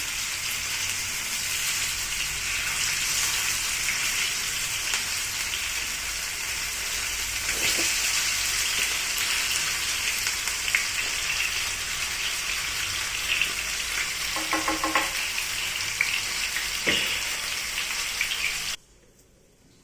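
Fish fries on a tawa in a spicy masala coating, a steady loud sizzle lasting nearly twenty seconds, with a few soft clinks and scrapes as the pieces are flipped, ending suddenly.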